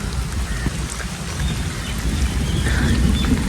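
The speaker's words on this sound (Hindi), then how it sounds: "इससे अंदाज़ा हो गया होगा कि कितनी बारिश आ रही है।" Heavy rain pouring steadily over a village, a dense, loud and constant hiss of drops with no voices, close and unbroken throughout.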